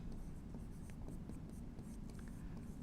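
Trigonometry equations are written by hand during a maths lesson, with soft, close scratches and taps of a pen or chalk in irregular strokes throughout.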